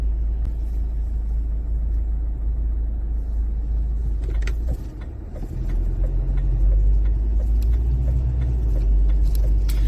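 A car drives through town, its steady close engine and road rumble filling the cabin, with a brief dip midway before the drone resumes alongside faint clicks and rattles; no one speaks.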